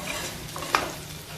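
Ginger garlic paste and chopped green chillies sauté in a pan for a pea and potato vegetable dish, giving a brief steady sizzle with one sharp spatula scrape.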